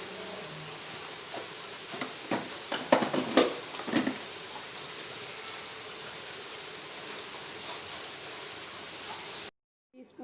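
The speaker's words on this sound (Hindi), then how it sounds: "शामिल करने के बाद फिर से इसको मिक्स करेंगे, भूनेंगे" Spices stirred and fried in a pan while cooking aloo gosht, red chilli in the mix, giving a steady sizzle with scattered scraping clinks of the spoon early on, cut off abruptly near the end.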